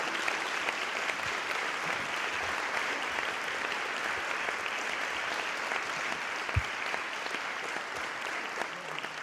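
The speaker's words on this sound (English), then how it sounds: "while we're doing some applauding" Steady, even applause from a gathered audience at a memorial luncheon in a church family life center, a continuous wash of clapping hands at moderate level with one sharp knock partway through.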